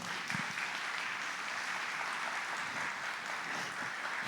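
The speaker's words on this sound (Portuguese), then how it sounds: "Vamos aplaudir esse carpinteiro" An audience at a church service applauds steadily, a continuous wash of clapping from a crowd of moderate size, fairly even in loudness throughout.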